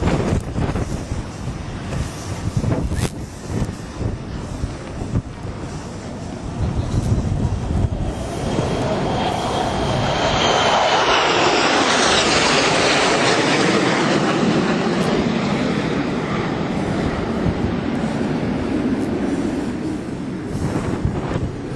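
A jet aircraft makes a flyby over the aircraft carrier USS John C. Stennis (CVN-74): gusty wind buffeting first, then a loud roar that swells, sweeps past and lingers with no voices.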